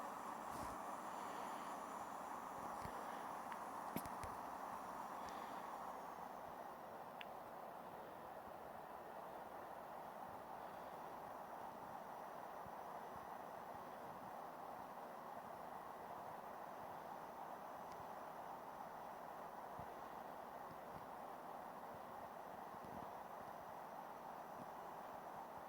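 A Boeing 767 taking off from Honolulu in Infinite Flight, heard as a steady, loud broadband engine roar that holds evenly throughout without pause.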